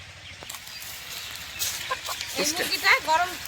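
A native rooster clucks a few times nearby toward the end, with faint rustling before it.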